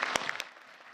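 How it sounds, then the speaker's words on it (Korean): A short spatter of studio applause on a live television news program, a brief burst of scattered claps with a couple of sharp hits that quickly fades away. "박수 쳐주세요"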